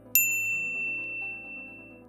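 A bright notification bell dings once near the start, its clear metallic tone ringing out and slowly fading over a low background.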